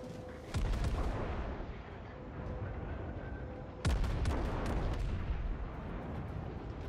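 Naval gunfire from the Japanese battleship Fuso in World of Warships, two heavy booming salvos that roll into long sustained rumble over continuous battle noise.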